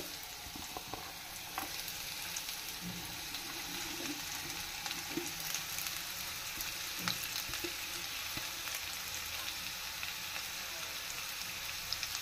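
Potato, shredded cabbage, cauliflower and carrot frying in a pan for vegetable rolls, giving a soft, continuous sizzle broken by occasional light scrapes and clinks from stirring.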